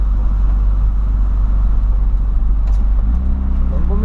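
Steady low engine and road drone inside a moving Volkswagen Voyage, loud and constant, with a voice talking over it and a shift in pitch near the end.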